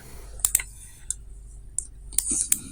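Sharp computer mouse clicks while working in COMSOL Multiphysics simulation software, a few isolated clicks and a quick double click at close range over a quiet room.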